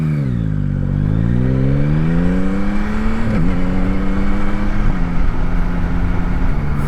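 A Yamaha MT-09 SP motorcycle with an Öhlins rear shock pulls away from a start, its engine note climbing steadily in pitch and staying loud and close throughout, with no voices.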